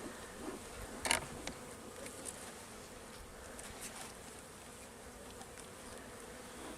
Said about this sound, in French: peut voir qu'il y a déjà beaucoup d'abeilles